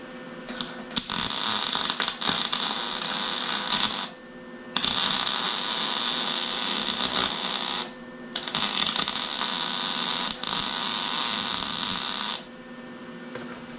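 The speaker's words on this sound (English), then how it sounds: "The joys of welding here." Welding on a Dodge SRT-4 core support comes as long bursts of steady, hissing crackle, each lasting a few seconds, separated by brief silent pauses.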